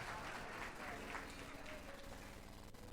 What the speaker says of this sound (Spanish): Alguien le da un aplauso al fuerte al Señor.